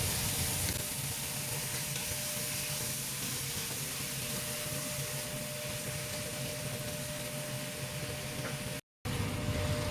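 Chicken fries in a pot with a loud, steady broadband sizzle that continues nearly unbroken and close, with a brief drop near the end and no talking.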